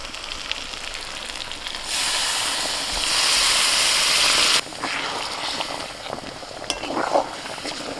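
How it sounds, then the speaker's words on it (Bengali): Hot water is poured into a pan of browned, sizzling chicken curry, and a loud steaming hiss rises for a few seconds before dropping back to a softer sizzle. Utensils scrape and clink now and then, and no one talks. "এবার গরম জল ঢেলে দিচ্ছি।"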